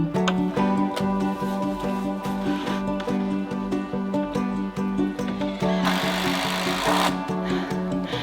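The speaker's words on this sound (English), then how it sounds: "we have to take turns using the miter saw" A miter saw cutting wood boards for a woodshed build, a close, steady whining motor hum with a rough rasp as the blade bites through, growing brighter and harsher near the end.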